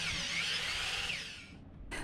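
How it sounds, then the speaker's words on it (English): A power saw and drill cut through a teak and fiberglass boat deck, giving a close, steady high whine that fades slightly before a short burst resumes at the end, with no voices. "So much debris builds up in the teeth of the saw that you have to stop, clean it out."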